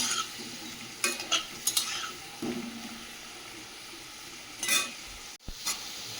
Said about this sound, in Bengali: এদিকে মাংসটা রান্না করার জন্য কড়াই চাপিয়ে আলুটা ভেজে নিচ্ছে